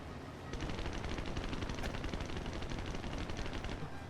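Rapid bursts of aircraft machine gun fire in War Thunder, firing at bombers, dense and continuous after a brief quieter start, with a steady engine drone beneath.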